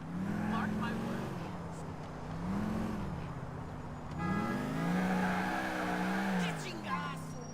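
Engine drone of a car in GTA 4 rising and falling with throttle, with tire squeal and skidding as it maneuvers, loud and continuous throughout.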